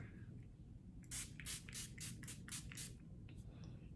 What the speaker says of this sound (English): I sprayed quite a bit more than I probably would normally spray